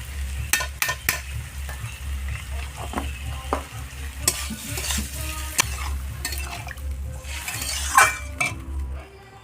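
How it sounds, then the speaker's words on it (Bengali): Potato curry, aloo dum, cooks in a pan with a continuous bubbling sizzle while a spoon stirs and clinks against the metal at irregular moments. "আলুর দম ফুটে গেছে।"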